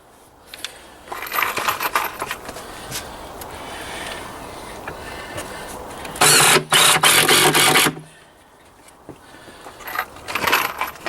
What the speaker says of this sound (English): You just got to be careful with the impact driver,